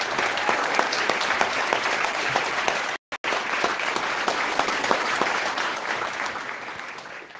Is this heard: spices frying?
no